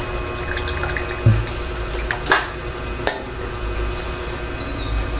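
Liquid pork marinade goes into a hot pan, a wet splashing, bubbling hiss over steady sizzling, with a few knocks and scrapes of a utensil close by.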